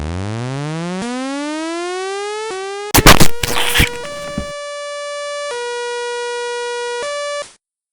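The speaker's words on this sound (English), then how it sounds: "You sound the escape signal." Synthesized escape-signal siren from a cartoon-style animation, loud and steady: stepped electronic tones rising through several pitches, broken midway by a brief burst of noisy clanging, then holding high tones before cutting off abruptly.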